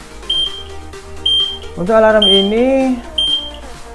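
Short electronic beeps from a homemade earthquake alarm repeat at a steady interval as a person talks over them, the alarm tone sounding every second or so.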